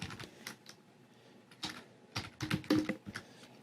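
A computer keyboard clatters in short, close bursts as a file is renamed during a foam armor pattern session in Inkscape, with soft pauses between keystroke runs and no voices.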